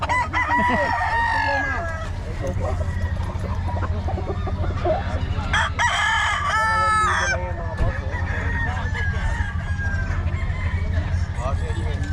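A rooster crows loudly several times over a noisy outdoor background at a rooster market in Bocaue, with other fowl clucking and buyers chattering nearby.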